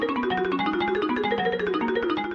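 Marimba playing a Fibonacci sequence mapped onto a major scale, a rapid, continuous run of bright mallet notes stepping up and down, loud and close with no speech.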